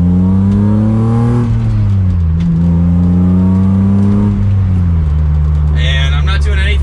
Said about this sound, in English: But we'll give it another acceleration from second.